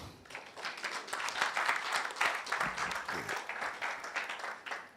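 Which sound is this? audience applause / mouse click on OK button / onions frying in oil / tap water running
audience applause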